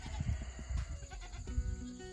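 Dairy goats bleat loudly and close by, several overlapping calls in quick succession with rowdy barnyard commotion, the herd spooked after a new cow arrives.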